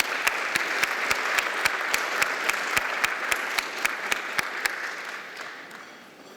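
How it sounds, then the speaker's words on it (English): Audience applause at an annual awards dinner as an award recipient is honoured, a steady crowd of clapping with one loud, regular nearby clapper standing out, tapering off toward the end. "Let's applaud Alison McClarty."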